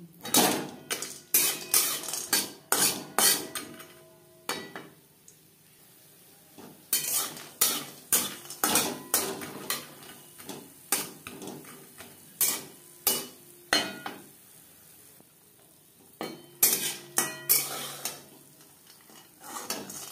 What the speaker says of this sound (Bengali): লালচে করে বড়ি ভেজে নিয়েছি